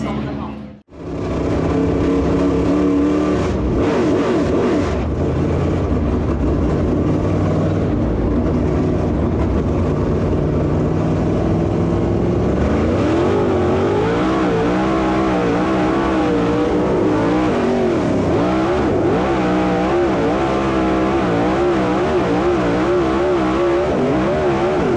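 Race cars at a dirt track fill the air with a continuous loud engine roar that swells and shifts in pitch as they accelerate, sustained with no pause.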